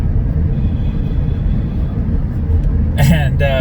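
A 2020 Ford Fusion rental car cruising on a long road trip: steady low road and engine rumble from inside the cabin, with a brief voice-like burst near the end.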